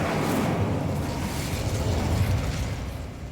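Incendio fire spell cast in Hogwarts Legacy, a steady whooshing roar of flame that stays broad and loud throughout with no clear breaks.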